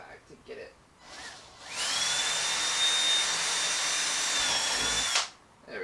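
Power drill boring holes to mount a carbon fiber front lip on a BMW E36 M3, one steady high-pitched whine lasting about three seconds, close and loud, with brief lower noises before and after.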